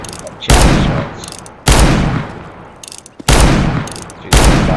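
R8 Revolver gunshots in CS:GO, four loud close blasts spaced about a second apart, each with a long ringing tail, with faint talk between the shots.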